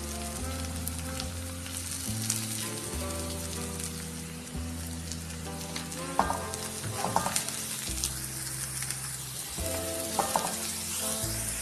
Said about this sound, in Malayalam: ഇനി ഇതിലേക്ക് ബീട്രൂട്ടും പച്ചമുളകും കൂടി ഇട്ട് ഒന്നും കൂടെ ഒന്ന് ഇളക്കി കൊടുക്കാം.